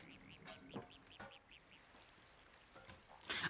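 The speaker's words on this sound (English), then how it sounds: "I thought I heard like ducks going knack knack knack knack knack. Like ducks making duck noises." A string of nasal duck quacks repeats in a steady rhythm, fairly faint, in the video game Stray, followed by a brief louder burst near the end.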